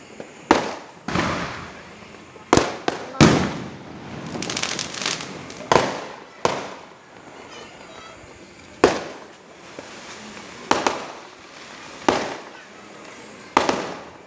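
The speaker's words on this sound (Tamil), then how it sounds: "கீழே வெடி செம்மையாக அடிக்காங்க" Firecrackers and fireworks burst in the street below, with loud, sharp bangs at irregular intervals and crackling between them, heard from a nearby height with no one talking.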